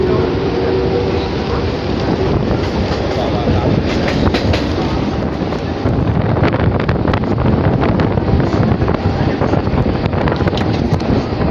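A local train running from Panskura to Digha, heard from on board with a loud continuous rumble, rhythmic clickety-clack of wheels on rails and heavy wind buffeting the microphone.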